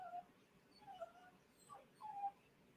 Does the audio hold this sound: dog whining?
yes